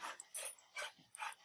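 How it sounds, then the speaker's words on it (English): Dog barking in the background, a handful of faint, distant yips and barks in an irregular rhythm, with no talking. "That noise you hear is my dog, if you hear my dog."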